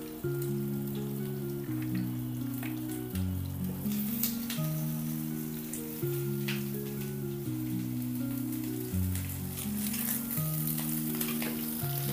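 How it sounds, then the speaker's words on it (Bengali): Cauliflower and potato fry in mustard oil with a continuous crackling sizzle like light rain, broken by a few stirring clicks, with steady music looping beneath. "সর্ষের তেলটা একটু গরম হলে তারপরে আমি কপি আর আলুটা ভেজে নেব।"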